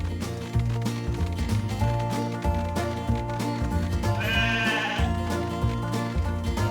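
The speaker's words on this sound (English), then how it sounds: "All right, you sleepy sheep, follow me." Sheep bleat repeatedly in a cartoon farm scene, layered under a steady rhythmic music track that stays loud throughout.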